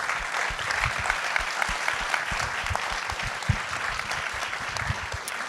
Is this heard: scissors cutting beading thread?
no